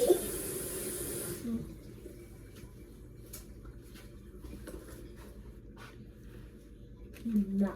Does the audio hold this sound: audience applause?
no